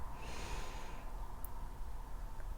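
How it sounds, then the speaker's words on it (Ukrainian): A single slow, deep inhale during a guided relaxation breathing exercise, soft and close, breathy and steady for a couple of seconds with nothing else heard. "зроби глибокий вдих і м'який повільний видих"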